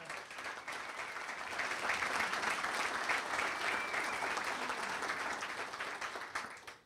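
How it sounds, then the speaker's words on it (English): A crowd at a State of the City address in Elmhurst gives the mayor a full round of applause, steady and dense throughout, swelling slightly and then tapering off at the end. "Give our mayor another great round of applause."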